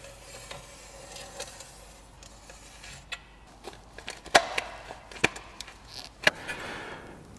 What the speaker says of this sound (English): So let's get the tin snips.